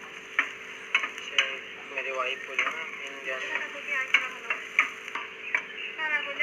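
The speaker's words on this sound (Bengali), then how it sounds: "পেঁয়াজগুলো ভাজা হয়ে গেছে।" Onions fry in a pan and a spoon stirs them, giving a steady sizzle with repeated sharp scraping clicks at an uneven rhythm, while a voice talks over it.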